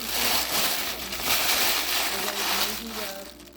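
Paper packaging around a small luxury cuticle oil box crinkles and tears in a steady, close rustle lasting a few seconds, with a faint voice murmuring underneath.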